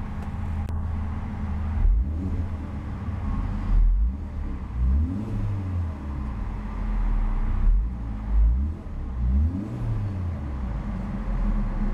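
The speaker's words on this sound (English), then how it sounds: "let's see about a few revs of that upgraded Turbo inline 4 and see what kind of soundtrack she produces" Upgraded turbocharged inline-four in a 2014 Hyundai Veloster Turbo with large dual exhaust outlets, revved several times in close succession, each rise and fall of engine pitch loud and clear over a steady idle, with no talking.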